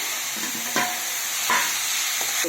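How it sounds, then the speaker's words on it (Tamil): Drumstick greens with garlic and onion sauté in hot oil, giving a close continuous sizzle broken by a few sharp spatula scrapes against the pan. "பூண்டு வந்து கொஞ்சம் கீரை போட்டு வதக்கிடலாங்க"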